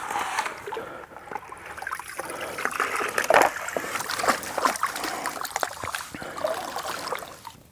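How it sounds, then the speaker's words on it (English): Gravel being speed-panned for gold in water in Arizona, with continuous sloshing, trickling and splashing as material washes out of the pan, fairly close and uneven in intensity. "So now what I'm going to do, just speed pan it all down."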